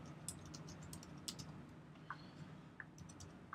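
Soft, irregular clicks of keys on a computer keyboard sound close and faint as someone types, with small pauses between bursts.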